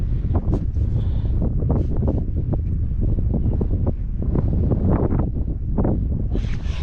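Outdoor breeze buffeting the microphone in uneven gusts, a rough low rumble that swells and fades repeatedly over several seconds, close and fairly loud, with no talking.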